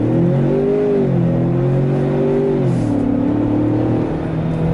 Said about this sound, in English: All right, we'll do a little bit of a harder launch here.